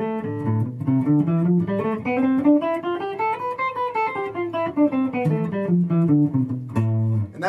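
An electric guitar plays the A Aeolian scale with alternate picking, single clear notes climbing steadily up and then descending back down, evenly spaced and alone without talk.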